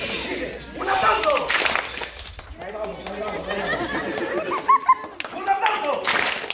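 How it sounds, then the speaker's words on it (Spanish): Children and guests clap at a clown show at a baptism party, with short bursts of hand claps rising over loud chatter and children's voices in a lively room. "¡Un aplauso!"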